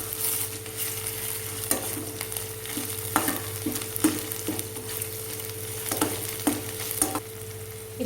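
Onions with ginger garlic paste sizzle steadily in a pan for white sorghum upma while a utensil scrapes and stirs in irregular knocks, up close, with no talking.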